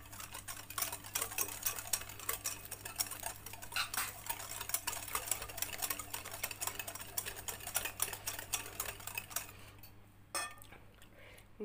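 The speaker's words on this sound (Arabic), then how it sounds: "ان انا افضل اقلب كويس لحد ما السكر يدوب" Sugar mixture for basbousa being stirred in a bowl, a continuous rapid scraping and clinking of a utensil that goes on steadily at close range and then tapers off near the end, with no talk.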